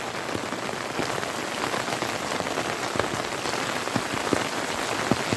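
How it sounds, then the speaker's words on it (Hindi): Heavy rain pours down close by in a dense, steady hiss, with individual drops pattering and splashing on surfaces throughout. "ये देखो भाई कितनी सारी बारिश हो रही है, खतरनाक वाली।"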